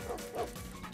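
A dog barks in the video game Mad Dog Run, a few short close yips and bow-wows in quick succession, loud and alone.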